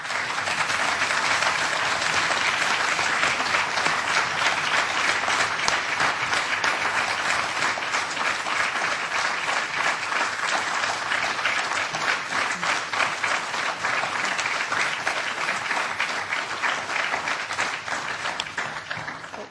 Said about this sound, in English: It's not very, very common that we have applause in this committee